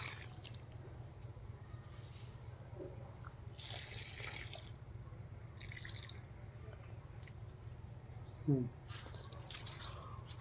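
Water being poured into dug planting holes for cauliflower seedlings in a village winter vegetable plot. Soft splashing bursts come and go over a steady low outdoor hum, with a brief sharper drip near the end.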